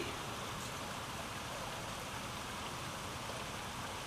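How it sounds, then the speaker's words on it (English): Steady rain falls outside a bathroom window on a wet, gloomy day, a constant soft hiss with no distinct drops or pauses, fairly quiet and unbroken by voices. "Rainy, nasty day."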